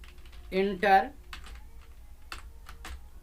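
A computer keyboard is tapped in a few light, scattered keystrokes while entering text in Excel, close and soft, after a brief spoken voice.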